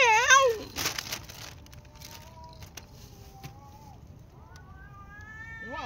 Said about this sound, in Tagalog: Lintik na mga pusa to.